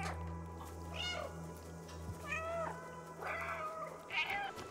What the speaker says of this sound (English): Dedicated purr button